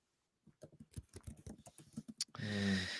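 Rapid clicking of typing on a computer keyboard comes in quick, uneven bursts at close range, then gives way to a sustained noisy hum near the end.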